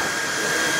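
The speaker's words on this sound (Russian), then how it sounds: "Вот, снимаем обычным феном." Ordinary household hair dryer blowing on protective film on a kitchen surface, a steady loud whooshing hum close to the microphone, alone.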